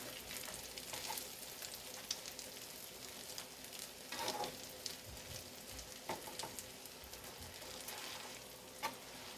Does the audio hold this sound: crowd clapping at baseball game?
no